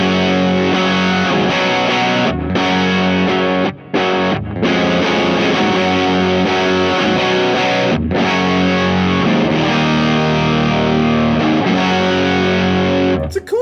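Electric guitar with Fishman Fluence humbuckers on the bridge pickup, driven through a Creation Audio Labs Holy Fire distortion pedal, plays loud, thick sustained chords and riffs with a few brief gaps.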